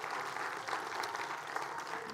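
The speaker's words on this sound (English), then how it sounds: "Clap your hands one more time, everybody" Audience applauding at the de Young Museum before a speaker series talk, a steady, fairly quiet wash of clapping from many hands.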